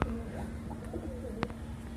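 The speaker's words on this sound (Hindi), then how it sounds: "तो भाई ये सारे कबूतर हैं" Pigeons cooing softly nearby, a few low throaty coos and a brief sharp flutter or call, set against a steady background hum with no talk.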